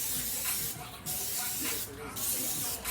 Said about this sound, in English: So we're going to do olive oil spray.